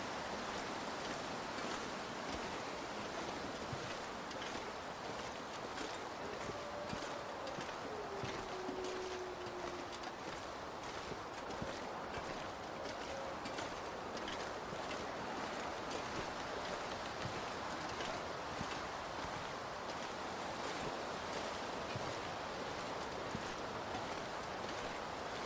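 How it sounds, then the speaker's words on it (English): Wind in The Long Dark survival game, a steady broadband roar of gusting air that fills the scene without pause, with a faint whistling tone briefly drifting through the middle. "Oh yeah, it's all the wind."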